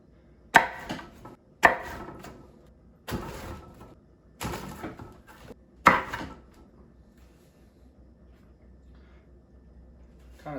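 A knife or cutter slices through a homemade Pizza Hut-style pan pizza in an oily pan, making five separate crunchy cuts spaced a second or two apart, close and fairly loud, followed by quiet.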